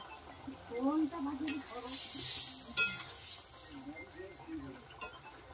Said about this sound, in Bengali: ঝোলটা 2 মিনিট ফুটিয়ে নেবে।